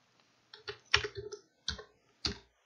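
A few short bursts of typing on a computer keyboard, separate light clicks and quick clusters of keystrokes with pauses between them, close and fairly quiet.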